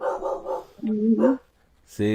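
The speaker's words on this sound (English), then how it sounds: "That's my dog barking and shit." A dog gives a few short barks mixed in with close conversation between men.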